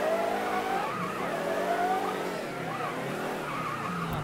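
A car driving and skidding in the Mafia III video game, tires squealing in long wavering screeches over the engine's revving roar, loud and close, continuing through the whole stretch.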